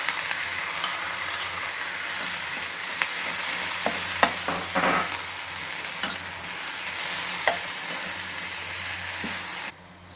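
Green tomatoes sizzle steadily in a hot pan for chutney, with repeated scraping stirs and a few sharp utensil clicks, close and loud with no talking.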